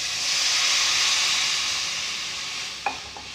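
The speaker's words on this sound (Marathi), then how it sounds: "आता आपण सोडणार 1 ग्लास पाणी" Water from a glass is poured into a hot pan of chili and salt for shev bhaji, giving a loud, steady sizzle and hiss throughout, with a couple of sharp clinks near the end.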